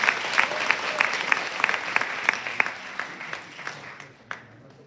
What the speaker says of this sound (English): So give him a big round of applause too,